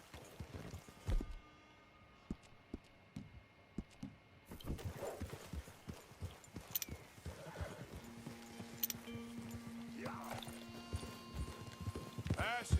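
Horse hooves clop steadily in Red Dead Redemption 2, with occasional neighs and whinnies over the irregular footfalls and some background voices.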